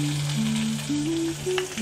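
Mustard seeds fry in coconut oil with a brief, loud sizzle, while a steady tonal hum sits underneath throughout.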